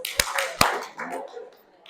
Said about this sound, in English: Can you hear me, clap twice.